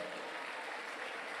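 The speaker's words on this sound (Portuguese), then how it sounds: "Aplauda a Deus." A church congregation applauds, a dense, even wash of many hands clapping, steady and fairly distant throughout.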